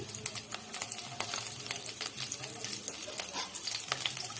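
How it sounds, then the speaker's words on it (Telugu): Onion and urad dal frying in oil in a pan on a gas stove for a Telugu tindora onion chutney, a steady close crackle with frequent sharp ticks and spatter over a faint low hum, no talking. "ఇందులోనే ఆనియన్ వేసి వేయించుకోండి."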